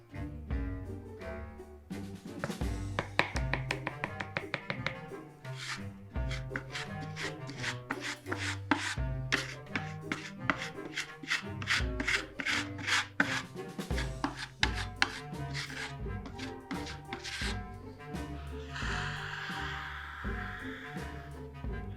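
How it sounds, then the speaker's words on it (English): Wood grain filler mud skimmed across a wood surface with a knife, giving a long series of close scraping and tapping strokes in an irregular rhythm, fairly quiet and with no talk. "whenever I apply it, I'm skimming it and only leaving stuff that's in the texture of the wood"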